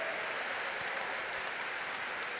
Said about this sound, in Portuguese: Vamos oferecer um aplauso ao Senhor.